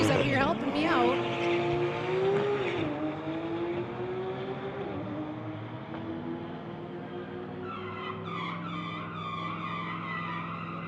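Porsche and Mercedes street-legal drag race cars screech with tire squeal and rising engine revs, loud and close at first, then a sustained roar fading slightly, with voices faintly underneath.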